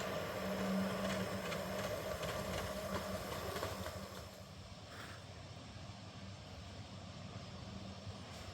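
A Quarry Hunslet model steam locomotive runs at an outdoor live steam meet, with a steady rumbling chuff and hiss that is louder at first and then eases to a quieter, more distant running sound.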